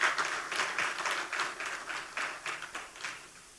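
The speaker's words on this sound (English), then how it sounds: "Let's give ourselves a round of applause." A gala crowd at a credit union league event at Sandals Grande in St. Lucia claps for themselves, a lively burst of applause that is loud at the start and gradually thins out over a few seconds.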